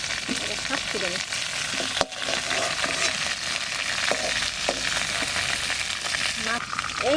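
Potatoes frying in oil left over from frying a large sea fish, a steady loud crackling sizzle throughout with occasional scraping stirs, no talk.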